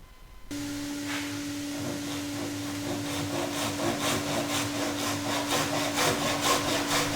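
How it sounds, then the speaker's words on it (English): A hand saw cuts a skirting board at a 45-degree vertical angle with steady back-and-forth strokes, a rough rasping that grows slightly louder and more rhythmic, accompanied by a constant tonal hum in the background. "we first cut down the skating board on a 45-degree cut vertically"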